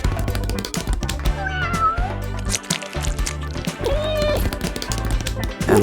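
Several cats meow repeatedly, overlapping and close by, with short rising and falling cries over a busy background of clicks and soft noise.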